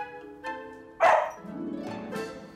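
A dog gives a sharp close bark followed by lower whining yips, vocalizing over a faint steady tone with no people talking.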